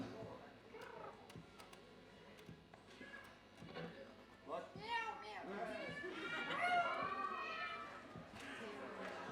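An audience at a live concert imitates a cat, many voices mewing and meowing together in a rising crowd chorus that swells loudest toward the end, over room ambience.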